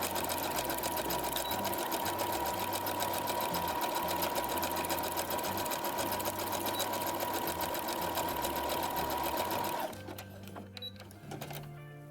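A sewing machine runs fast and continuously, stitching a zigzag seam on jumpsuit fabric for a Star Wars costume, loud and steady, then stops near the end leaving a few quieter mechanical clicks.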